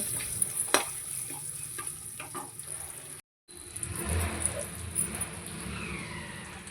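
A spice mixture with fenugreek powder being stirred in a pan, with close scraping and soft sizzling, a few clicks early on and a short silent gap midway.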